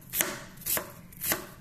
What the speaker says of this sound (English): the way you're chopping it is you're going this way first, then you're cutting it inside like at an angle